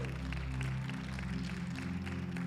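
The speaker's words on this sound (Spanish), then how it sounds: "An applause to the Lord." A church congregation applauding together, steady sustained clapping that fills the room at moderate loudness, with a low hum underneath.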